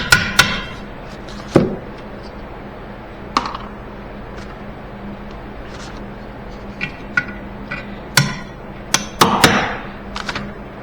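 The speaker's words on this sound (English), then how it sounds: "And then I will use a hammer to take the bolt out." Hammer knocking a bolt out of a boat's spade anchor, sharp metallic strikes landing irregularly, some single and some in quick pairs or clusters, over a low background hum.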